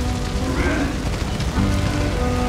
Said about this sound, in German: frische Steaks grillen